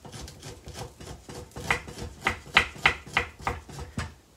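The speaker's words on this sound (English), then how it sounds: "you take your spoon, and you just drag it over" A spoon dragged over fresh ginger root to scrape off the peel, producing a series of about ten rhythmic rasping strokes that grow louder and crisper midway, close up with no talking.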